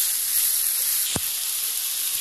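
Vegetables for chicken chilli sizzle steadily in a hot pan, a continuous bright hiss throughout with one brief sharper burst near the middle, no talking.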